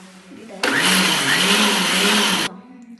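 A kitchen blender whirs loudly for roughly two seconds, mixing mayonnaise with sunflower oil and sugar, starting and stopping sharply against a quiet room.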